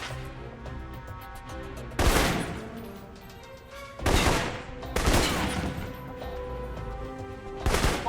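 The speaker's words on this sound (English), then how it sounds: "For long-range encounters, the assault rifle's the key" Assault rifle gunfire in the video game Alpha Protocol comes in several sharp, loud bursts spaced a couple of seconds apart, over a steady electronic game soundtrack.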